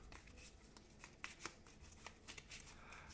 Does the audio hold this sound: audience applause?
no